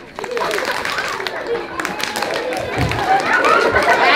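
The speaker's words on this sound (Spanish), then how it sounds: "Yo subo la mano y ellos aplauden." A live clown show audience in Puebla claps on cue at a hand signal, with scattered applause building and fading under lively crowd chatter while people talk over it.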